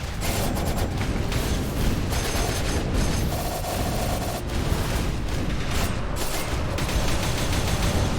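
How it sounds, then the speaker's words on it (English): Explosions in the action platformer Skul: The Hero Slayer, a dense, continuous barrage of booms and crackling blasts layered with game effects, loud and unbroken for the whole stretch. "Explosions everywhere."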